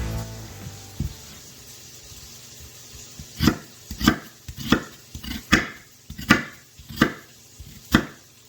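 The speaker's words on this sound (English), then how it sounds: "Get my onion cut up real quick." A knife chops through half an onion on a cutting board, starting with a few scattered cuts and then settling into about eight sharp, evenly spaced strokes, close and clear with no talking.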